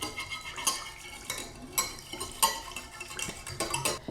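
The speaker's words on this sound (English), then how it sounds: "I just mix it up right in my pan" A lemon herb marinade for skirt steak being mixed right in a pan, with repeated light clinks and scrapes of a utensil against the metal in an uneven stirring rhythm, close and fairly quiet.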